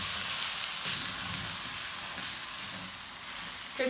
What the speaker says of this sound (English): So let this fry off a little bit.